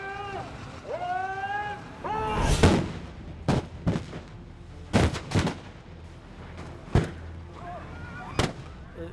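Practical explosion effects on the set of the 2013 action film Olympus Has Fallen boom in a series of sharp, loud blasts spaced a second or two apart, with muffled rumbling and faint voices in between.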